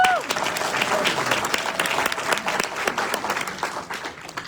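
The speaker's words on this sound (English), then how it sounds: "Give him a round of applause." Loud audience applause fills a business briefing hall, dense clapping with cheering voices mixed in, swelling and then gradually tapering off.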